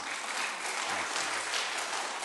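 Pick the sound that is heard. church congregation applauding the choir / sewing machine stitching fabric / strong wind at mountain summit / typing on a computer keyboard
church congregation applauding the choir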